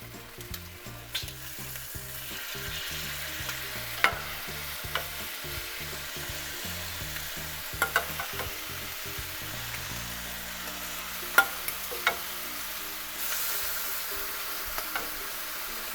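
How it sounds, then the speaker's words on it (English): Shrimp sizzles and crackles steadily in a hot pan with sauce, a continuous frying hiss with occasional louder pops. "Hear that sizzle."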